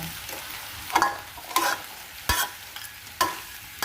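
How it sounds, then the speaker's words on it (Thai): Pounded fresh chili is stir-fried with shrimp for salt-roasted chili shrimp: a soft, close sizzle punctuated by four sharp spatula scrapes and knocks against the pan at irregular intervals. "เอาพริกนะคะพริกที่เราโขกไว้นะคะพริกสดนะคะใส่ลงไปเลย"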